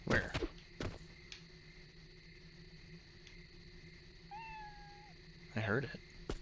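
A cat meows in a video game, a few short cries among steady ambient game tones and an occasional soft footstep, with no voices over it.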